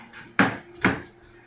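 A deep birch-plywood drawer in a boat galley sliding on smooth bearing runners, two quick soft thuds of movement close together, alone and fairly faint.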